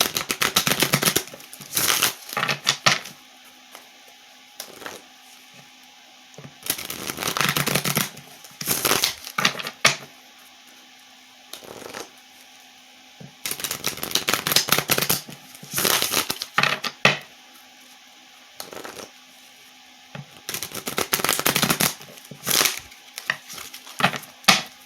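Tarot cards are shuffled by hand in several separate bursts of rapid papery riffling and slapping, each lasting a second or two, with quiet gaps between them and no talking.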